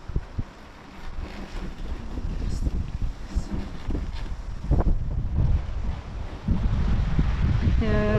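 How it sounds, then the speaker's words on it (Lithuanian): Strong wind gusts sweep across an open lake in Sweden, a steady loud roar buffeting the microphone throughout, with choppy water faintly beneath and no voices. "visą dieną praneša tokį labai didelį vėją ir iš tikrųjų ir yra labai didelis vėjas"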